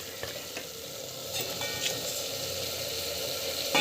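Brinjal and green peas sauté in a pan for a village tamarind gravy, giving a soft, steady sizzle with occasional faint stirring scrapes. The sound is fairly quiet, with no talking.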